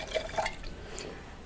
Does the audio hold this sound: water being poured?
yes